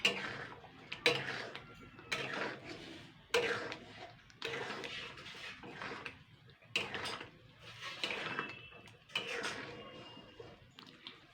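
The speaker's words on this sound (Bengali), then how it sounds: "এইভাবে নাড়াচাড়া করতে হবে" A spoon scrapes and clanks through fish oil curry in a pan, several distinct stirring strokes spaced about a second or two apart, close and moderately loud over a soft background.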